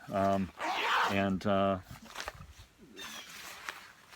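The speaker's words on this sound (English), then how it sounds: "you want to have these pit zips to be able to vent" The underarm pit zips on a Mountain Hardwear rain jacket are pulled in short, rasping bursts, close by, between loud voiced sounds and softer rustling of the fabric.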